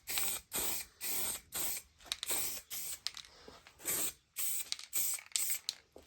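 Short bursts of spray paint hiss, about ten passes in a steady on-off rhythm, as light coats are sprayed onto a model Jinty locomotive; close and fairly loud, with no talking.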